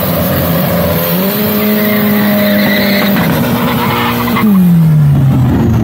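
A street car, a Volkswagen Parati, accelerating hard on a race track during a city challenge event, engine tone climbing steadily under loud, sustained tire squeal, then dropping as it shifts near the end.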